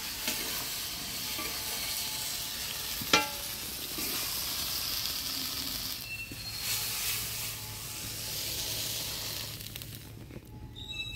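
Taro leaves (kochu shak) cooking in a pan hiss with a steady, dense sizzle, punctuated by a sharp clank of a utensil and occasional stirring scrapes, close and even in level, with no talking.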